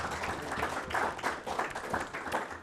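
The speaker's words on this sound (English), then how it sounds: "So please, a round of applause for our Vice Chairman, Roger." A round of applause at a fire and rescue authority meeting for the departing vice chairman, moderate clapping from a modest room of attendees with uneven, pulsing rhythm, somewhat distant.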